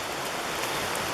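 Rain falls steadily outdoors at a campsite, a soft, even hiss of drops with no breaks and no voices.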